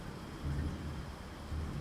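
Steady rain falling on a dark night, a constant low wash of downpour with a rumbling undertone that swells briefly twice, heard alone without any voice.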